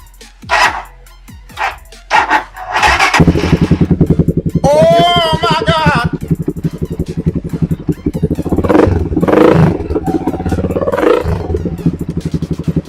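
A motorcycle fitted with an Akrapovic or SC Project aftermarket exhaust revs up close and loud, its engine rising and falling in sustained throttle blips after a few short opening bursts.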